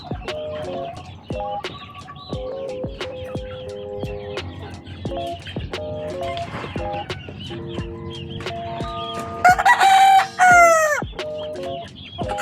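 A fighting rooster crows loudly late in the clip over a steady backdrop of clucking hens and other fowl, with sharp clicks scattered throughout.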